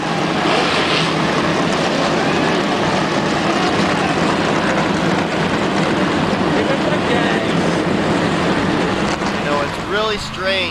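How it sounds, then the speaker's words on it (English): Several race car engines rev and drone at the start of a video game stock car race on a Madrid track, a loud, continuous mechanical roar that holds throughout before wavering slightly near the end. "Drivers, start your engines"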